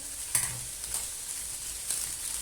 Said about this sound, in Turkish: Sadece bir tatlı kaşığı tereyağımız var. Şöyle içine bırakalım.